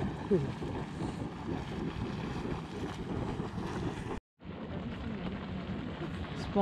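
Sponge Geyser churns and boils in a continuous rumbling, bubbling wash of water that drops out briefly near the end before resuming at the same level.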